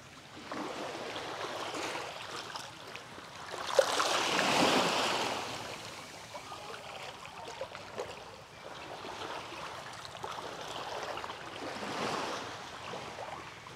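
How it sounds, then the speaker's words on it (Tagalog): Sea waves wash near a shore lined with piled stones by seaside houses, a steady close rush of surf that swells into a louder surge and then eases, with light wind noise. "Kalapit na kalapit lang po namin dito yung dagat."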